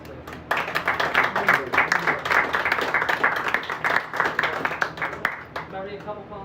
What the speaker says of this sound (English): Everyone give them another round of applause, please.